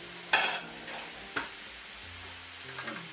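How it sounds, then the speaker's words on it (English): Browned pork fillets cooking in a pan with a faint, quiet sizzle, broken by a couple of sharp metallic clinks of a utensil against the pan. "So, now that pork's browned off, keep it going,"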